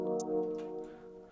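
Three syncopated drill hi-hat ticks, short and bright, placed off the beat over a held synth chord pad, close and moderately quiet with no talking.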